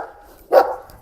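A dog gives a single sharp bark partway through, close and fairly loud against a quiet, low background hum.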